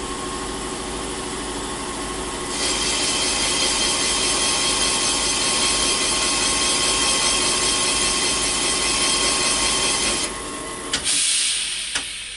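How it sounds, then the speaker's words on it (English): Carbide cutter machining three valve seat angles at once in a Buick 264 Nailhead cylinder head, a steady loud machine whine and hum with hissy grinding that intensifies after a couple of seconds, then cuts off near the end. "Now this carbide has the ability to cut 3 angles at once"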